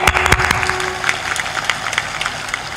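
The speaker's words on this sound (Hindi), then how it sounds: "ताली बजाओ इनकी" Audience clapping at a spiritual discourse, a few sharp close claps at the start settling into a steady, moderately loud patter that carries on throughout.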